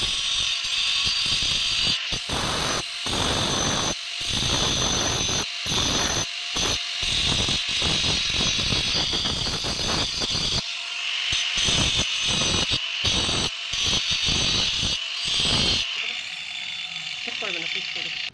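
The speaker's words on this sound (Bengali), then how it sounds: "এবারে এটা আমরা মোল্ডিং মেশিন দিয়ে ফিনিশিং করব।" A moulding machine finishes a marble piece in repeated grinding bursts with short gaps between them, close and fairly loud, and a voice is heard at times.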